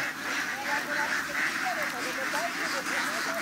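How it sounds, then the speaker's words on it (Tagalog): Layer ducks on a duck farm quack in a steady stream of scattered nasal calls as they climb into their pen, with a human voice mixed in. "Kusa na umakyat yung mga itik para pupunta sa kulungan nila."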